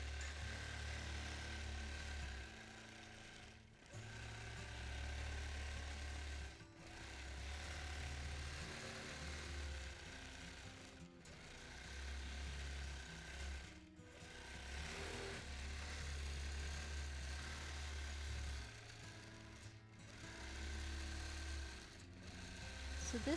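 A long-arm quilting machine stitches steadily through freehand quilting, a loud continuous mechanical hum and rapid needle chatter in long runs broken by several brief pauses when the machine stops.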